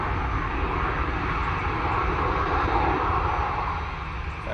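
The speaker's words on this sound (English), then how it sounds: "Got a Ryanair arriving" A Ryanair airliner arriving at Manchester Airport gives off a steady, moderately loud jet engine drone that holds evenly and eases slightly at the end, with no talking.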